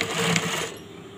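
A sewing machine stitches fabric for a gandoura-style sirwal trouser, a dense rapid whirring that runs steadily for most of the moment and then quiets, close and fairly loud with no talking.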